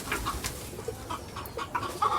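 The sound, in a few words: chickens clucking on a rooftop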